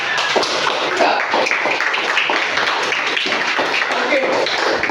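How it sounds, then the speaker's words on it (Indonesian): Children in a classroom clap for a classmate named Stefania, a dense, steady patter of many small hands filling the room, with voices mixed in underneath. "Oke bagus. Tepuk tangan Stefania."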